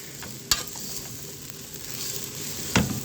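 Kunafa being stirred in a pan, with a soft, steady sizzle and two sharp scrapes or knocks of the utensil against the pan, close and fairly quiet with no speech.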